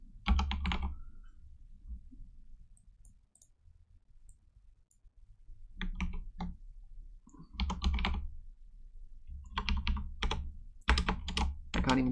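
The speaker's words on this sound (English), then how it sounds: "I can't even type on my own keyboard." Bursts of typing on a computer keyboard, close clusters of quick key clicks separated by a quiet pause.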